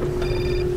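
Telephone ringing in the Syberia adventure game, a single electronic ring tone sounding clearly for about half a second over a steady background hum, with no voices.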